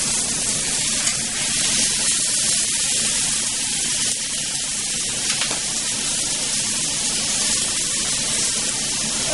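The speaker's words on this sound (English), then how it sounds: "Let me flip one of the steaks." A New York strip steak sizzles loudly and steadily in a hot pan just after being flipped, a dense, even frying hiss with no voices.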